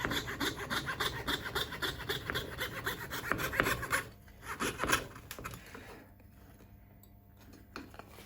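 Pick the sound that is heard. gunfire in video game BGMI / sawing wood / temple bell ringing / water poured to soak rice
sawing wood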